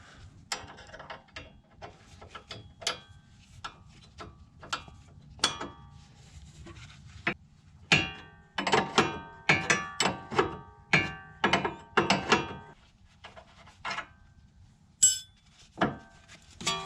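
A 3/4-inch ratchet with a 19mm socket loosens the sway bar end link bolts on a GT86/BRZ/FR-S, giving sharp close clicking bursts at an irregular pace that grow denser partway through, with pauses between strokes.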